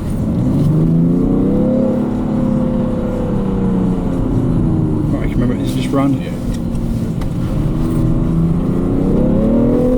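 A 2017 BMW 335d M Sport diesel engine heard from inside the cabin, rising and falling in pitch as it accelerates and shifts, loud and continuous, with a few spoken words over it.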